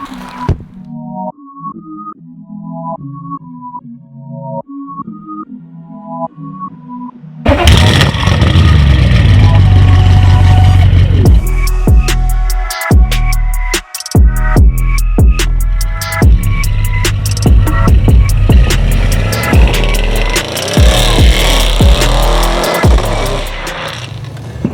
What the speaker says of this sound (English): and from Sam, when you just pulled away then, this thing sounds absolutely brutal